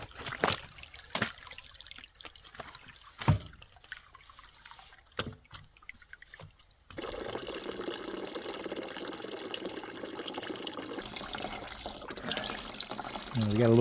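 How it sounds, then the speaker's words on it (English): Spring water from an Alaskan spring gushes through a one-inch pipe into a spring box, a steady close rush of flowing water that starts midway after several knocks and clanks of fitting work, with talk heard early on. "I'm going to get this spring hooked up so it starts running into the spring box"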